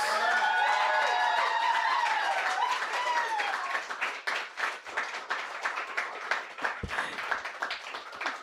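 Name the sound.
audience applause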